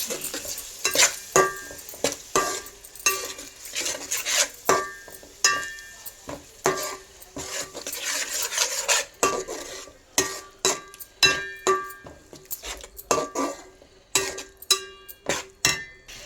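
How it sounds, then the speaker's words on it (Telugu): Ginger and shallot paste frying in a pan for a fish curry while a spoon stirs it, making repeated clinks and scrapes against the metal with a soft sizzle underneath, close and steady. "అల్లం చిన్నుల్లిపాయ పేస్ట్ వేసి కొంచెం వేపుకుందాం"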